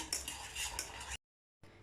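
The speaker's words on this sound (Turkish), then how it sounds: "bütün malzemeleri çırpıyorum" Fast metallic clinking of a whisk against a bowl while whisking sugar and cake ingredients, steady and close, stopping briefly before resuming.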